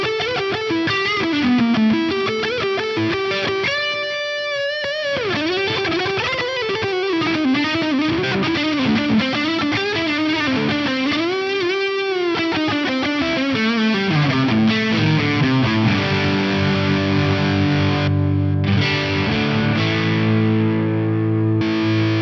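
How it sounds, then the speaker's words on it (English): An electric guitar with a bridge humbucker plays a loud, thick, overdriven melodic line through a Boss Super Overdrive into a Marshall amp, with delay and reverb. Sustained bends give way to repeated chords, and no one speaks. "A Boss Super overdrive into a Marshall with like a bridge humbucker."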